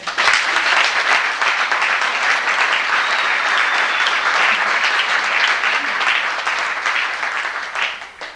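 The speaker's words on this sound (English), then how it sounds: "Please join me in a round of applause for all of them." A banquet hall audience at a senior sports banquet gives a sustained round of applause, loud, dense clapping close by that holds steady for several seconds before tapering off.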